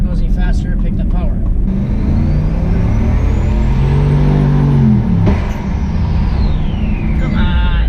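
Turbocharged Cadillac Escalade accelerating hard through a pull, a loud continuous engine roar climbing in pitch with a rising turbo whistle, then a sharp release and easing off.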